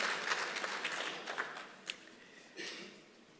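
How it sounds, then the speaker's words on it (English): Seated delegates at an engineering conference session applaud, a broad wash of clapping that starts fairly full, thins out with a few sharper individual claps near the end and fades gradually. "a round of applause"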